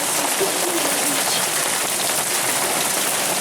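A thunderstorm's heavy rain and hail drums down in a constant, loud, close wash of noise, unbroken for the whole stretch with no voices over it.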